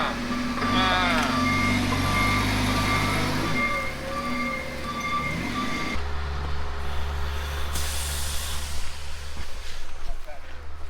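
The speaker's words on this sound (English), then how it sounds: "It's time to get these forklifts." Forklifts loading onions at an outdoor loading dock, with steady repeated reversing beeps over a loud continuous engine rumble and truck noise.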